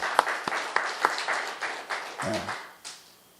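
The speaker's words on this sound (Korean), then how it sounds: "박수." A church congregation claps briefly in a series of sharp distinct slaps at a Sunday service before the clapping fades out.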